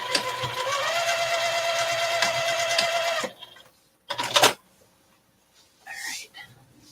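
A sewing machine stitches a zipper pouch in a fast, steady whirring run of about three seconds, then stops. A short burst and some handling sounds follow, with someone speaking briefly.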